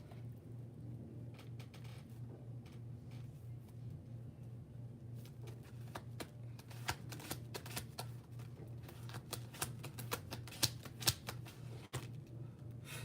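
Tarot cards being shuffled by hand, a steady run of soft papery riffles and flicks close by, with no talking.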